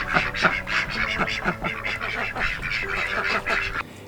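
Ducks quack repeatedly in a garden, a rapid run of honking calls close by with a few brief pauses, continuing steadily over faint background noise.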